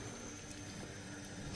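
A toilet tank refilling with water after a new fill valve is installed, a faint steady hiss and trickle of flowing water with no talking.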